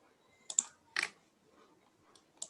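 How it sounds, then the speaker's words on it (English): Typing on a computer keyboard, heard as a few short bursts of key clicks spread across a quiet moment, close and moderately loud, with no talking. "So this is what I'm typing over here."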